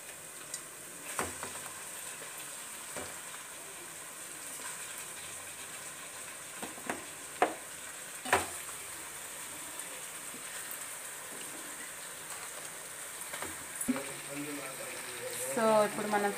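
Fish pieces drop into hot oil for a tamarind curry seasoned with asafoetida, giving a faint steady sizzle with occasional sharp ticks and clatters, growing busier toward the end.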